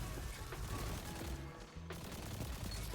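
Rapid auto rifle hip-fire in a first-person shooter video game, a steady stream of loud close shots running almost continuously, with a brief gap near the middle before firing resumes.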